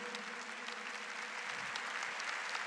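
Sustained applause from a church congregation, many people clapping in a continuous, even roar with a faint voice or tone underneath.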